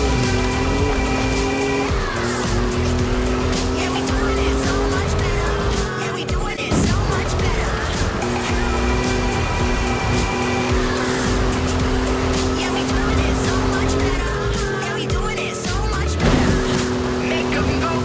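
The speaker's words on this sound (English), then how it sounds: "Here we take control of the 2021 Ford Bronco Badlands, atop of the towering, snow-capped Gran Caldera volcano." A 2021 Ford Bronco Badlands engine drones steadily in Forza Horizon 5 as it descends the snow-capped Gran Caldera volcano, with gear-shift pitch drops, tire squeal and a loud racing music-like bed throughout.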